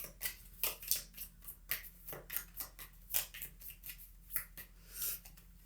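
A tarot card deck is shuffled close up: soft riffling slaps and papery flutters come in quick irregular bursts, quiet and alone without talk.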